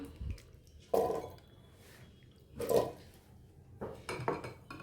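Washed raw plantain goes into a metal pressure cooker, with a few scattered clanks and knocks of the pot in a quiet kitchen, separated by short pauses.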